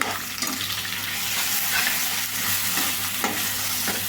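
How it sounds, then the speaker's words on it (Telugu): Grated raw mango frying in hot oil sizzles steadily and hisses up close, with a few stirring scrapes through it and no voices. "మామిడికాయ తురువును కూడా ఆయిల్లో మగ్గనివ్వాలండి"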